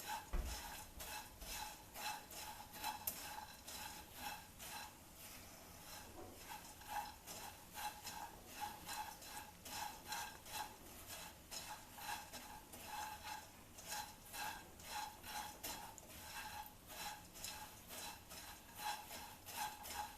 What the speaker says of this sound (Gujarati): હવે આવી રીતે ફરીથી બધું મિક્સ કરી લેશું